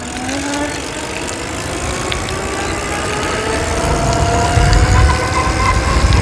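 Electric bike with a skateboard hub motor driven by a 3D-printed pulley, running on a 36-volt hoverboard battery with a 350-watt controller, accelerating at full throttle. A steady motor whine rises in pitch under loud, rising wind rush.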